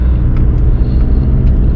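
A Volkswagen 1.9 TDI diesel car fitted with an 11mm injection pump accelerates, giving a loud, steady low rumble that builds as the turbo boost comes in, with no talk.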